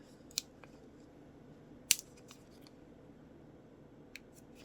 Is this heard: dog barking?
no